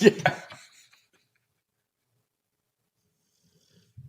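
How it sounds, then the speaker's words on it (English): A dog's snoring breaths and snorts near the start, followed by long silence and a faint low snort at the very end. "There's definitely snoring going on there."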